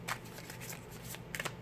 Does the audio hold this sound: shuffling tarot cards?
yes